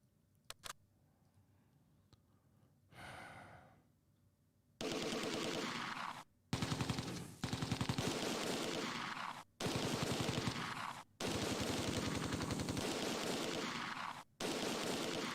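Sustained bursts of gunfire from the World War II strategy game Close Combat 2: A Bridge Too Far, with a few faint isolated shots first, then long rapid volleys broken by short pauses, loud and unaccompanied.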